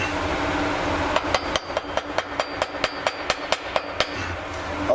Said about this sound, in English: I'm using an S-wing chipping hammer